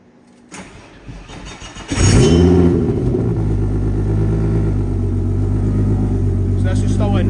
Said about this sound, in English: So I'll fire up the car, sorry for the noise.